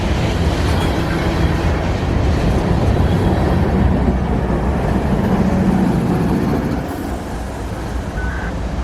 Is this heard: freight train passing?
yes